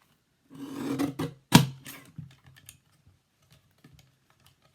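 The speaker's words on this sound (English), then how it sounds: "we need our trimmer back again, and we need to trim off 2 centimetres or 3/4 of an inch" A paper trimmer blade slides through card stock in short rasping passes with sharp clicks, loud at first, then trailing into a few faint taps and handling noises. No one speaks.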